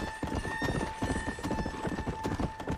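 Horse hooves clip-clop at a steady gallop in the video game Red Dead Redemption: Undead Nightmare, a rapid rhythmic patter with an occasional whinny over a constant game ambience and music tones.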